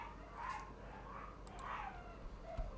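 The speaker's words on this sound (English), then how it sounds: "The puppy is, like, really unhappy." An unhappy puppy yips and whimpers several times in short, high cries, fairly faint in the background of a quiet indoor room.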